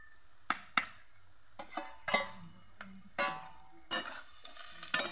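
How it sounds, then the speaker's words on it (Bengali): Onion and garlic frying in a pan, heard as a series of separate bursts of sizzle and scraping stirs, several sharp clinks of a utensil against the pan between them, close by with no talk. "এবার রসুনটা দিয়ে আর একটু কষি নিয়ে মাংসটা দিয়ে দেবো।"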